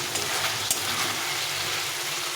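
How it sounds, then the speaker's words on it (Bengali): Elephant foot yam and potato being slowly sautéed in oil in a pan, a steady close sizzle with faint stirring scrapes throughout, no talking. "এরকম করে আস্তে আস্তে কষিয়ে নিতে হবে ভালো করে"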